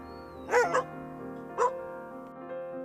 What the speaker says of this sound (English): The Great Dane then barked out an all-dog alert, sending the news all over London.